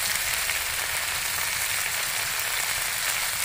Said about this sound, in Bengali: এটা সুন্দর করে ভেজে নিতে হবে।